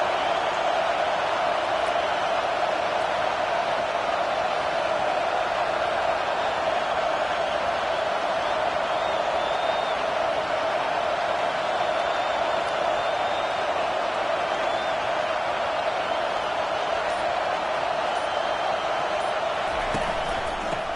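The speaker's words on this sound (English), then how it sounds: "this crowd is turning it up a notch" Broadband roar of a football stadium crowd during a game, cheering steadily and loudly throughout without a break, with an announcer's voice running over it.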